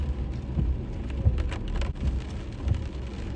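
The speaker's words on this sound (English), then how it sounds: "It's raining, right?" Steady rain falls in a wet Washington street scene, a dense close hiss of drops pattering on surfaces with scattered louder splats, continuous for a few seconds with no voices.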